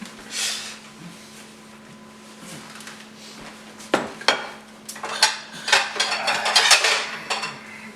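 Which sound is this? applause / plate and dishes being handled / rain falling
plate and dishes being handled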